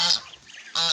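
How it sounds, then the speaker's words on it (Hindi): Domestic ducks give two brief, harsh honking calls, one at each end of a short pause, fairly close and loud. "पाली हैं तो बतखे हैं"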